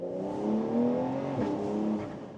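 A Porsche 911 Carrera S 992.2 convertible engine revs with the top down, a brief muffled rise and fall in engine note heard from the open cabin, fairly quiet, with no talking.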